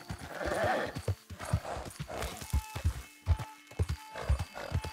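Horse hooves clip-clopping at a steady walk in Red Dead Redemption 2, close and distinct with a regular rhythm, brief neighs and soft game ambience behind.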